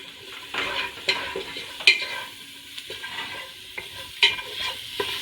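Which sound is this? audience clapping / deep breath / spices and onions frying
spices and onions frying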